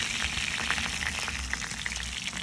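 A whole spatchcock chicken fries in a pan with a dense, continuous crackling sizzle, close and steady throughout with no talk.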